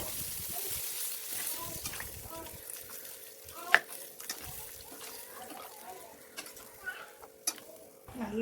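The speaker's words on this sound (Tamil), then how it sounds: "நல்லா கொதி வர ஆரம்பிச்சிருச்சு." Prawn kuzhambu, a tamarind-based curry, starts to boil in a pot, with faint bubbling and sizzling pops and occasional clinks of a utensil over a low steady hum.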